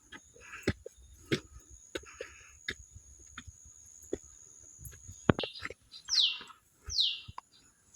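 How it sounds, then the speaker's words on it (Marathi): Birds chirp and tweet in short scattered calls around an old hilltop Mahalaxmi temple in Chaul, Alibag, with a few louder upward-sweeping whistles near the end against a quiet background. "पक्ष्यांचं किलबिलट"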